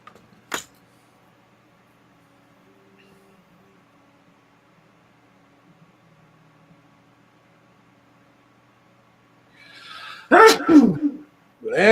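One loud, sharp sneeze comes close at the end of the clip, after long near-silence with faint background hum and a brief click near the start.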